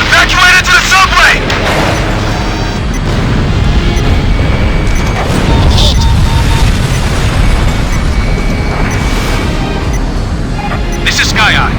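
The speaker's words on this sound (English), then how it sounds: "Naval gunfire! Evacuate into the subway!" Naval gunfire explosions in the Ace Combat Infinity video game, with heavy booms and blasts rolling loudly and continuously through the scene, mixed with radio chatter.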